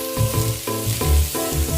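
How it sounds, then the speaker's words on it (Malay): Pounded garlic, shallots, anchovies and bird's-eye chili sizzle hard in hot oil, a steady close frying hiss with rhythmic scraping pulses as the paste is stirred in the pan. "Next, tumis bahan yang dah ditumbuk tadi."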